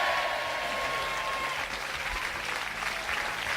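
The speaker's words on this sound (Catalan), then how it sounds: "és la primera vegada a la vida que veig un tècnic de so que s'aplaudeix a si mateix" Steady, dense applause filling the room at a radio show as a sound technician is introduced, continuous and fairly loud throughout with no pauses.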